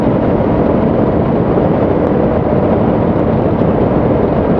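A CFMOTO 450MT motorcycle's parallel-twin engine with a 270-degree crank rumbles steadily and loudly for the whole stretch, a dense continuous drone with no pauses.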